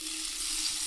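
Amul butter hisses softly as it goes into a hot pan while a burger is being cooked, giving a brief, steady and fairly faint sizzle with no talking.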